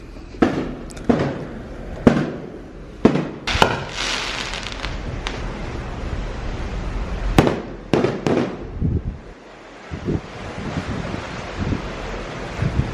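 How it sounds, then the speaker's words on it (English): Fireworks exploding during pirate night aboard a Disney cruise ship, a series of sharp booms and crackles at irregular intervals over steady wind and sea noise. "Apparently the fireworks already started."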